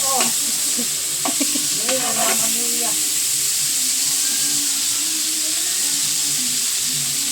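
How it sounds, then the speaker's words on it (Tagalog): A pot of soup cooks over a strong fire, sizzling and hissing loudly and steadily up close, with a few clanks and scraping stirs early on and faint voices under the noise. "Magluluto tayo ngayon ng sopas."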